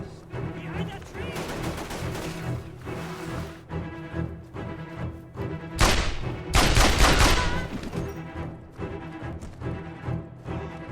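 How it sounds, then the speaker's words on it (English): A machine pistol in Mercenaries 2 fires rapid bursts, dense crackling shots over steady game music, with the loudest volley in the middle of the clip. "Machine pistol? A little inaccurate, but it shoots so fast."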